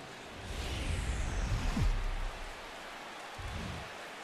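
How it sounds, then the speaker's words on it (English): Steady, soft rain falling over Busch Stadium in St. Louis in the MLB The Show 17 baseball video game, a continuous hiss of rain with a low ambient rumble beneath it. "There it is, raining"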